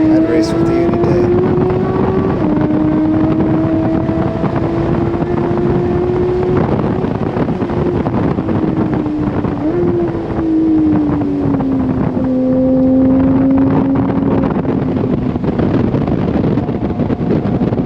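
Porsche racing on a track day and passing a Ferrari, its exhaust a loud sustained engine drone that shifts pitch as the car accelerates and lifts, with heavy wind buffeting over it.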